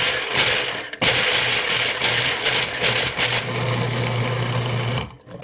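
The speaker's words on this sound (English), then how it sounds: "we'll start by popping our almonds into the food processor, and we're just going to pulse it until it's a fine powder" A food processor pulses almonds into powder in short bursts, its motor buzzing loudly with brief gaps around 1 s and stopping near 5 s, with no talking.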